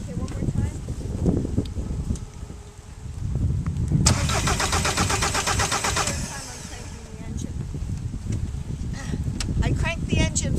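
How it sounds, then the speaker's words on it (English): A VW Jetta TDI diesel engine cranks over for several seconds under loud starter noise and almost catches without running; voices speak before and after. "I'm going to crank the engine."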